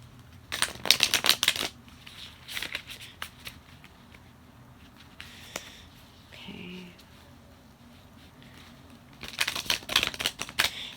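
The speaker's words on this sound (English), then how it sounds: "we're gonna go ahead and pick 4 cards" Tarot cards get shuffled and handled from a deck, with quick riffling bursts near the start and again at the end and soft papery shuffles between, all close and fairly quiet.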